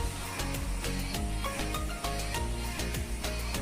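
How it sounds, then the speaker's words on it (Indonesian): Wristwatch ticking on manila paper, heard as a regular series of sharp clicks repeating about every quarter second over a constant background hiss. "Kita cek terlebih dahulu detak dari arloji tersebut."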